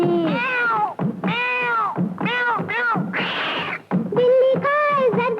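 A cat meows in a 1970s Hindi film song, a rapid run of loud, close, wavering meow cries in quick succession with one harsher yowl in the middle.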